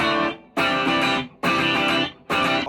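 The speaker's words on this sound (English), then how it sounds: "Add some distortion like the original." Distorted electric guitar strums out thick, loud chords in a repeating rhythm, with brief gaps between bursts of about a second each.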